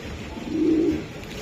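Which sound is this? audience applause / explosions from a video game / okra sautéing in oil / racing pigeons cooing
racing pigeons cooing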